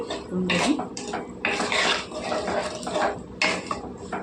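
A spoon scraping and clanking against a cooking pot while potatoes and onions with turmeric are stirred, in uneven bursts of metallic scraping at close range.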